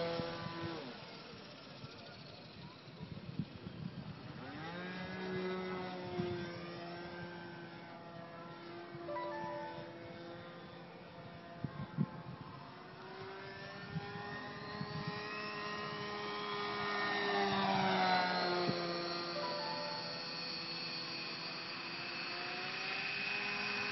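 Seagull P51 radio-controlled model airplane coming in to land, its small engine holding a steady drone that shifts pitch and swells slightly toward the end, moderately distant, with no talk.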